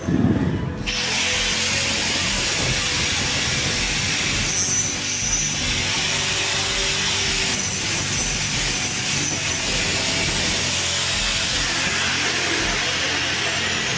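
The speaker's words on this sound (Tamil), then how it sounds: "அந்த கேசிங் வந்து நான் இப்போ அளவு எடுத்து கட் பண்ணிகிட்டு இருக்கேன்" An LED profile light strip casing is cut to size in a shop, producing a loud, continuous rasping, grinding noise close by that holds steady for the whole stretch after a brief sharp onset.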